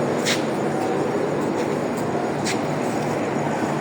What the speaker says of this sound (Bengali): এই হলো কমলাপুর রেল স্টেশনের ভিতরে প্ল্যাটফর্মগুলো